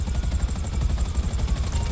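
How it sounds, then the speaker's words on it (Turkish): Helicopters fly in the video game GTA Online, a loud continuous rotor thump with a rapid, steady chop that fills the whole short stretch, close and heavy, with no speech. "Oğlum millet, herkes helikopter sürüyor ya."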